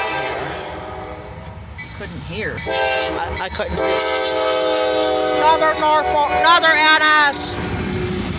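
A Norfolk Southern 206 intermodal freight train heading east passes close by, its loud horn blaring over the rumble and clatter of cars, with people talking nearby.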